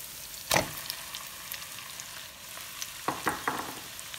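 Beef going into a hot pan for ampalaya con carne, a soft steady sizzle broken by sharp clattering strikes as the meat drops in and is stirred around.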